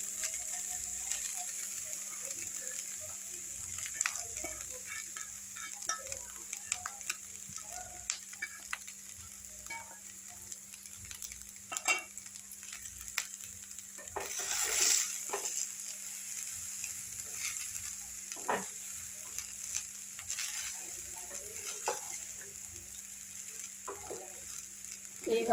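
Cooked rice being stirred into a coconut mixture in a pan, with soft scraping and light sizzling under a steady hum, plus occasional clinks of the spoon, and no talk.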